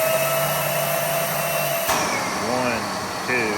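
An EGO cordless vacuum whirs with a high motor whine, then shifts pitch sharply when switched to turbo. A voice talks over the louder running motor.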